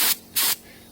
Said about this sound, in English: You just want a nice fine spray.